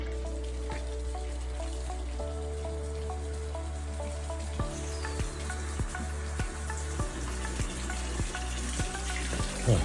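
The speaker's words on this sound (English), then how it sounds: "I'm just walking down to a fountain just to get some water." Water runs steadily from an old stone public fountain, built in 1870, in a town along the Via Francigena, forming a constant splashing stream with regular drips landing close by.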